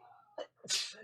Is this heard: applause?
no